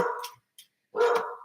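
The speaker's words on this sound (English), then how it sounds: "Sorry about my dog." A dog barks twice nearby in a quick, close pair of sharp barks with a brief gap between them, loud and clear in an otherwise quiet room.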